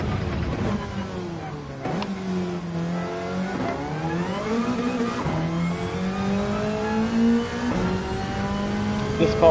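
A race car engine from the video game Gran Turismo 7 revs hard, climbing through repeated gear shifts with sharp drops between pulls. It is loud and close, alone without talk, with a brief squeal of tires.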